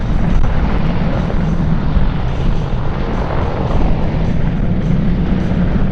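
A Boeing AH-64 Apache attack helicopter backs away while climbing at an air show, its loud, continuous rotor and turbine roar steady and close throughout with no voices.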